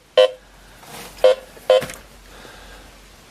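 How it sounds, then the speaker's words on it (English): Metal detector sweeping for buried iron gives three short electronic beeps in a quick, uneven sequence, fairly loud against a quiet background. "Metal detector says that's iron."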